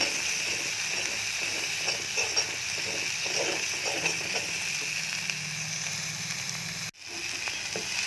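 Turmeric, garam masala, salt and chili powder frying in oil for a paneer kofta curry give a soft, steady sizzle with occasional light stirring clicks, briefly cutting out near the end.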